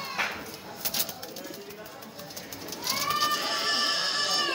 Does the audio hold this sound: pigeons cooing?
yes